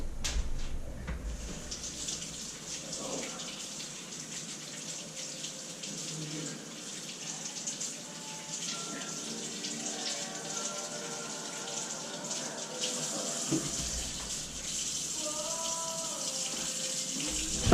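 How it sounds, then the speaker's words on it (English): Kitchen tap water runs into a sink in a steady, hissing stream with shifting splashes as something is washed under it, continuing throughout. "Hear the water running."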